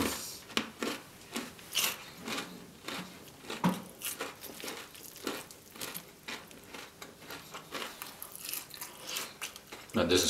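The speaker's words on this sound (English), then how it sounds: "I'm gonna do ASMR with these onion rings. Too crunchy not to do ASMR." Crunchy bites and chewing of cheesy onion rings from a large mukbang platter, close and repeated in an irregular rhythm, with brief crackling bursts between quieter pauses and no talking.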